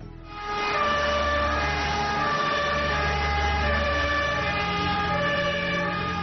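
A fire engine's siren sounds loud and close, a steady sustained wail held for several seconds over a deep engine rumble, with no voices.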